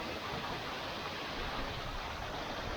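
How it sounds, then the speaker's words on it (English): Waterfall at a high-altitude campsite near Algonquin Peak in New York during spring snowmelt, pouring down into a valley: a steady, dense, even rush of water with no breaks, close and continuous. "Beautiful waterfall here,"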